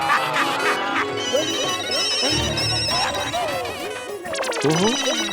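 Several telephones ringing at once, electronic tones overlapping in a busy jumble, loud and close, with voices talking in between.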